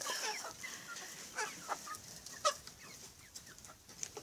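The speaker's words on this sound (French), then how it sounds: "Voilà, là il y a la poupoule. Magnifique poupoule. Et le coq qui est juste là." Brahma cross hens and a rooster cluck in a farmyard poultry run, with a few short, mid-loud calls scattered over a quiet background.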